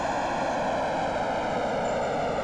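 Simulated Boeing 2707-300 supersonic airliner in a flight simulator game, a steady droning engine roar with a constant tonal whine, even in level and uninterrupted, with no voices.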